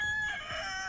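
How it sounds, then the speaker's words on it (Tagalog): A rooster crows once at dawn, a short strained call close by and fairly loud, with no one talking. "Tumilaok ang manok."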